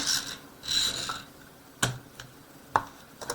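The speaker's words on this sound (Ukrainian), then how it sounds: "Це у нас ось ручний генератор. Отак крутите і на оцих ось контактах добувається електрика." A toy hand-crank generator from a ZNATOK electronics kit is turned by hand, giving a soft geared whir and ratchety rasping early on, then a few sharp, isolated clicks and knocks close by.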